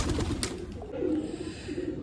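A pigeon with a straight tail coos close by, a short soft burst of low throaty cooing notes over faint background noise.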